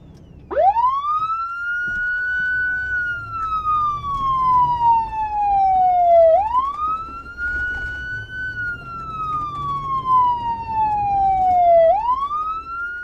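A police siren wails loudly and close by, rising sharply then sliding slowly down in a repeating cycle, with two full sweeps over faint traffic rumble.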